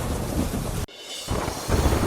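Heavy, continuous monsoon rain roars close by while a deep rumble of thunder rolls through, with a short abrupt cut partway before the downpour resumes at full strength.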